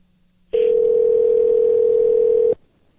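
A telephone dial tone sounds as a radio host tries to call a caller back: one steady, loud, pure tone starting abruptly after a faint line hum and cutting off cleanly about two seconds later.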